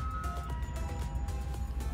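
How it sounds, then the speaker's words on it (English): A roadside ice cream truck in Toronto plays its chiming jingle, with steady tonal notes over low street and engine rumble close by. "There's an ice cream truck behind me."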